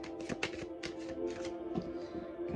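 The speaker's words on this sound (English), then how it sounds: "I'm going to shuffle the cards." Tarot cards are shuffled by hand in a series of quick, close riffling and flapping bursts, fairly quiet, with no talking.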